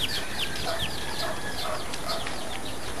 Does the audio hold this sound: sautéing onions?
no